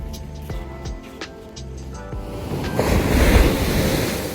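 Ocean waves wash onto a dark beach at night, building into a broad rushing surge near the end, with wind buffeting the microphone and a few faint tonal sounds early on.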